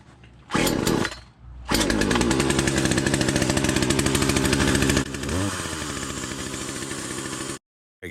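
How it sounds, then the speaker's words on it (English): A Poulan Predator chainsaw with newly replaced gas lines, carburetor and primer bulb gives a short roar, then runs loud and close at a steady high rev for several seconds, drops to a rougher idle and cuts out. "the saw is running great"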